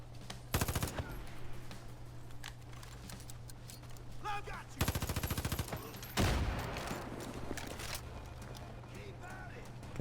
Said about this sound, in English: Oop, I'm being shot by somebody over here.